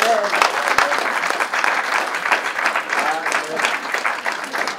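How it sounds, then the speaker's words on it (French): A church congregation claps in dense, sustained applause that continues throughout, with voices from the crowd mixed in. "Et vous pouvez l'applaudir."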